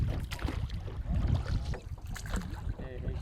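A rowboat carrying passengers crosses the Kadana reservoir toward an island village. Water churns and sloshes with a low rumble, and steady wind buffets the microphone; faint voices may sit underneath.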